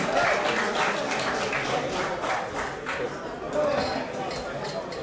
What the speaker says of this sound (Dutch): Geef ook een sportief applaus voor Hamza Alouche.